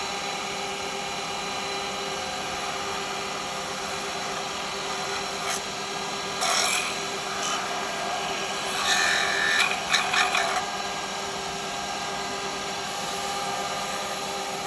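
Canova wax rubbed onto a small wooden pot spinning on a lathe, a constant whirring hum with brief scratchy bursts of rubbing, close and steady, no talk.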